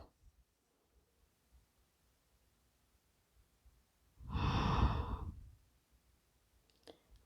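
A single deep, drawn-out breath out during a yoga flow, close and clear, about a second long in an otherwise quiet room with faint mat rustles.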